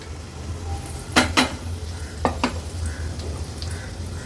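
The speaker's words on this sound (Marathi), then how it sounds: "वाटण तेलावर थोडंसं परतून घ्यायचंय" Coarse ground masala paste frying in a little oil in a pot for an Agri-Koli fish meal, a soft steady sizzle with a few sharp clinks of a spoon scraping the pot.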